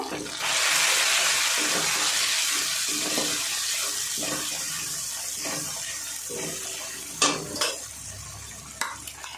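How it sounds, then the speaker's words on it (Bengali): Water from a rinsed bowl goes into a hot pan of spiced vegetarian curry, setting off a loud burst of hissing sizzle that slowly dies down, followed by a few sharp clinks and knocks. "সেই বাটিটা ধুয়ে একটু জল দিয়ে দেব।"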